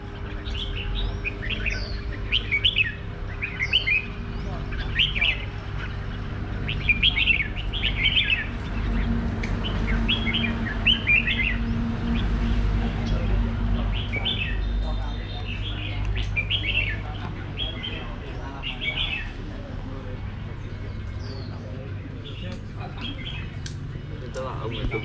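Birds in a cage chirp and tweet in repeated quick bursts over a low steady hum, while people talk throughout.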